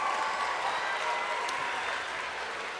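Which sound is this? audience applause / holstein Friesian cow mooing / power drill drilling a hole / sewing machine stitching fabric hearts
audience applause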